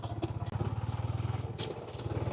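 A motorcycle engine idles with a steady low throbbing pulse, close by, with a brief dip and a few clicks partway through.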